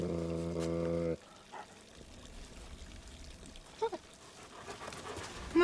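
A dog pants in quick rhythmic breaths at close range, with a few brief whimpers, after a loud tonal sound cuts off at the start.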